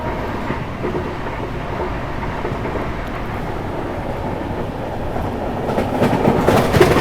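New Delhi to Srinagar train rolling along the rails in Kashmir, a continuous low rumble and rattle heard from inside the carriage, swelling louder toward the end with no voices.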